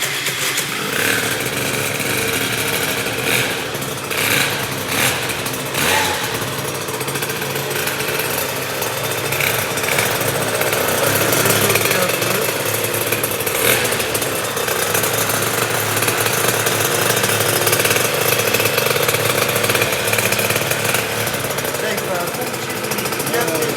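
Stunt motorcycle engine with a carburettor, running slightly rich, idling loud and close with a rough, uneven burble that holds steady throughout.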